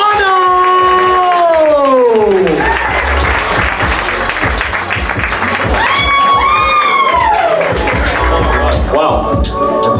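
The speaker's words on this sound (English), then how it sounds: "Start clapping right now for Mr." A comedy festival audience in Raleigh breaks into sustained applause and cheering for a comedian taking the stage, loud and continuous, with walk-on music playing over the clapping.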